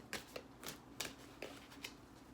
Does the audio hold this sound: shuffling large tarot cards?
yes